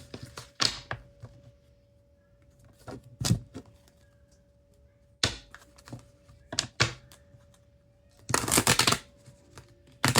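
Tarot cards are handled and shuffled close by, with scattered riffles and taps building to a dense shuffling burst near the end, in a quiet room without talk.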